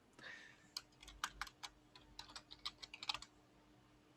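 Keys clatter on a computer keyboard in an irregular run of crisp, close clicks, with a heavier press now and then such as the tab key, and no voice over it.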